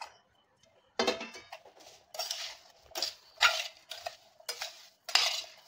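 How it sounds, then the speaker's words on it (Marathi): A spoon stirs raw green mango pieces into a sugar-salt pickle spice mix in a bowl, making close clinks and scrapes in short bursts separated by brief pauses. "आता हे कैरीच्या फोडी आहेत ते आता आपल्याला त्यामध्ये घालून मिक्स करून घ्यायचे"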